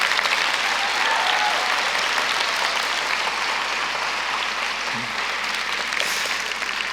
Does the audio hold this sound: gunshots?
no